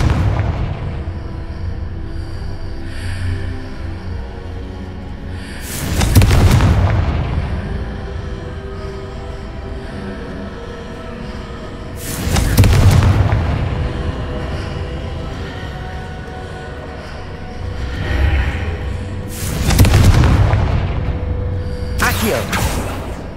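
Confringo explosive spell in Hogwarts Legacy goes off in four heavy, booming blasts spaced several seconds apart, each swelling and fading over a steady low game ambience.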